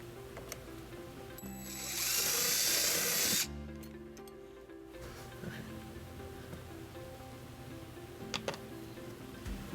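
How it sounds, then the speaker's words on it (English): A power drill bores a hole through the bumper of a 2013 Mazda CX-9 during a trailer wiring harness installation. It makes one loud, steady whir that lasts about two seconds and then cuts off, with quiet workshop handling sounds before and after. "and then we're going to drill our first hole."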